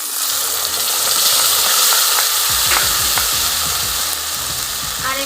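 A ground paste of green chilies, onion, garlic and ginger frying in a pan for pomfret fish curry, with a loud continuous hissing sizzle and rhythmic scraping stirs partway through, close at hand.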